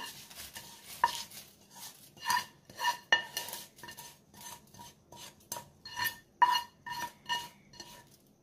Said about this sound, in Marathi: ही फोडणी मी आता या पोह्यावरती घालते।